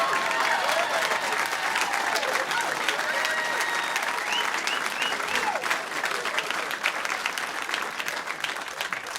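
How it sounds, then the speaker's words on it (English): A stand-up comedy audience applauds, a dense, even clatter of many hands sustained for several seconds with faint voices mixed in. "Why are you all clapping?"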